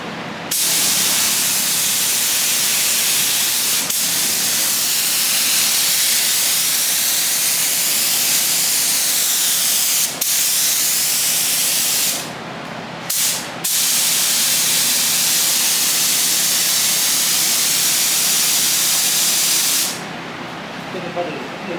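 Air hisses loudly and continuously from a spray nozzle, a broad, steady rush broken by a few brief pauses around twelve to fourteen seconds and again near the end.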